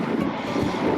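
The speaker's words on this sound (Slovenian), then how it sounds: "Na tem ovinku sem pa dobro čutil veter." Wind buffeting a microphone while cycling around a bend on the Portorož route, a loud continuous low roar and rush across the whole second.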